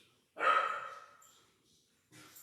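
A pet dog at home gives one loud, drawn-out bark that fades into a whine, followed after a pause by a shorter, softer bark, close by.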